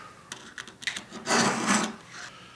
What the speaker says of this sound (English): So continue sharpening. Side one.